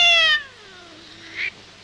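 A single loud, drawn-out meow from a nearby black cat in a 1932 film, falling in pitch, followed by a faint short squeak.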